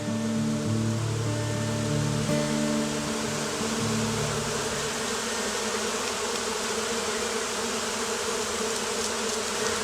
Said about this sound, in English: We have up here just an entire colony of bees creating some type of amazing magnetic force field around this tree.